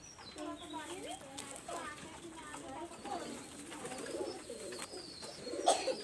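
A pigeon held in the hand coos in low, rolling phrases while someone talks over it nearby, the cooing recurring through the whole span.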